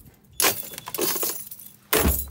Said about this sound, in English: my keys are just not having it.